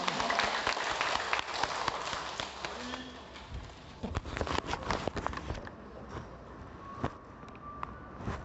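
An audience claps steadily after a lecture at a Buddhist hall in Yilan. The dense, crackling applause runs throughout, swells briefly in the middle and thins toward the end.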